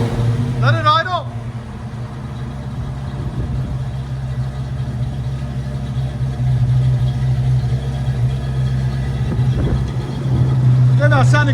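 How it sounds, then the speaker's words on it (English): A 1939 Chevy Master 85 with a 350 V8, true dual exhaust and Cherry Bomb mufflers idles steadily with a deep, continuous rumble, loud and close, while people talk over it. "Let it idle."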